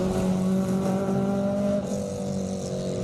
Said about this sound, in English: 944 Porsche getting ready to take things on here at Speed Classic Cape Town